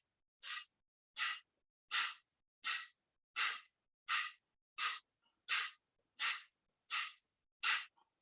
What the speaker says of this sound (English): So that's the one where you pull your belly in, push your breath out.